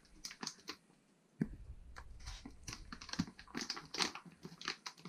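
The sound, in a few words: peeling the sticker off an espresso package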